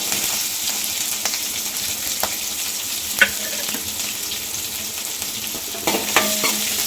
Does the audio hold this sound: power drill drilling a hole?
no